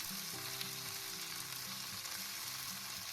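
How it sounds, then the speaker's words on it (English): Beef and Napa cabbage stir frying in a pan, a steady close sizzle with faint stirring and scraping throughout, no voices. "Then add the leafy part of the Napa cabbage. Continue to stir fry for about 40 more seconds."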